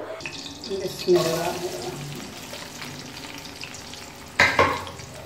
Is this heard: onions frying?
yes